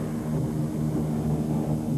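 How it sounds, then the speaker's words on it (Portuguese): An airplane drones steadily overhead above the Victoria Nile near the falls in Africa, a continuous low engine hum with no voices. "E um avião da Operação Okavango já sobrevoa o Nilo Vitória"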